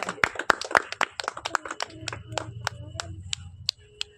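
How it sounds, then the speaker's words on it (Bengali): Sharp hand claps ring out repeatedly in an irregular, lively pattern during a children's game, with children's voices and background chatter mixed in. "হাততালি দাও, হাততালি দাও।"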